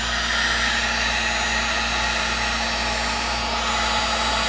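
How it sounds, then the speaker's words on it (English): Heat gun blowing hot air onto a wooden Philco 38-7CS radio cabinet during restoration, a steady, loud, continuous roaring whoosh that holds level throughout without pause. "I'm going to use a heat gun to heat it up"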